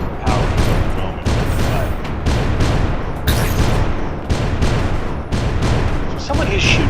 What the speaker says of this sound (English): So someone is shooting the ship. It's chipping away at my shields